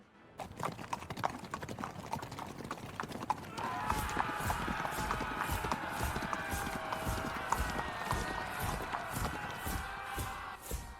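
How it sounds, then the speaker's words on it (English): Hoofbeats clatter through a cavern, beginning as scattered clops and building into a steady rapid gallop, with a loud roar of overlapping shouting voices joining about midway. "A loud ruckus, hoofbeats and men shouting could be heard elsewhere in this cavern."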